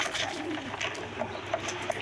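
Pet pigeons give soft, low coos nearby, a few short calls against faint background noise.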